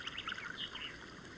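Water trickling as a sound effect in a music track, a faint bubbly pouring and dribbling with light chirpy high droplets over a low background, brief and quiet.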